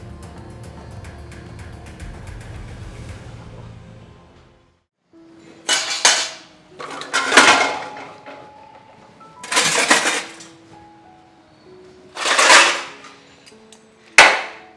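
Dishes, pots and pans slammed around in anger in a household kitchen: after a steady background hum, five sharp, loud metallic crashes and clatters come at irregular intervals, each ringing briefly, with no voices.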